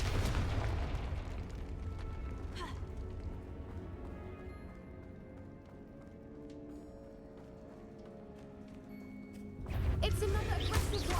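Confringo blasting curse exploding in a video game: a loud, crashing blast at the start and another heavy burst near the end, with sustained tonal sound and rumbling in between.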